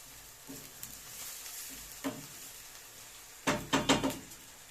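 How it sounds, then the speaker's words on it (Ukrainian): Onions sizzle softly in a frying pan under steady hiss, with a few scraping stirs and a burst of quick clinks near the end. "Цибулька у нас смажиться"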